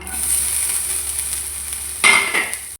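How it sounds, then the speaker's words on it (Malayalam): Grated coconut fries with a steady hiss in a pan, then a stirring stroke near the end briefly makes the sizzle louder. "ഇനി നമുക്ക് തേങ്ങ നല്ലോണം വറുത്തെടുക്കാം"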